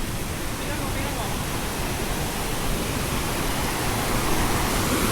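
Bilin Falls waterfall and river in Hsinchu, Taiwan, pour as a dense, even roar that stays loud and close throughout, with faint voices mixed in.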